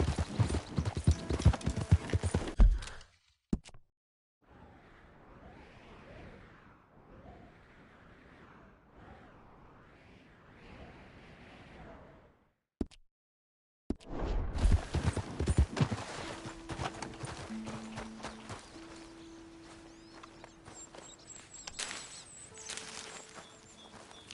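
Horse hooves clip-clopping in Red Dead Redemption 2, a steady trotting rhythm under ambient game sound, broken by short silent gaps, with a softer, muffled stretch of rhythmic hoofbeats in the middle.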